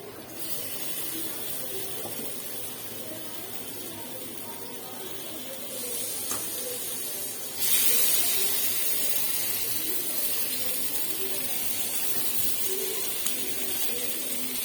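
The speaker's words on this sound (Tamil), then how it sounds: "இப்போ வந்து நாங்கள் போட்டு வறுத்து எடுத்துக்கலாம்." Mixed marinated fish fry in hot oil, a steady, close sizzling hiss that holds throughout and grows slightly louder and brighter partway through.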